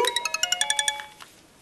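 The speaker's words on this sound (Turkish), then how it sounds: "telefonun zili çalıyor." A telephone rings in a Turkish TV comedy series, a quick string of about ten bright electronic chirps at a steady rhythm, loud and close, fading out after about a second.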